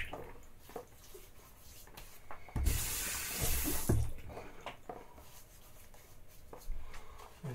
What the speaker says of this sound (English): We're going to put some water on the face.